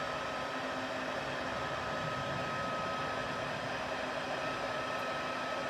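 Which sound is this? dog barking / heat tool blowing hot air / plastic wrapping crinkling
heat tool blowing hot air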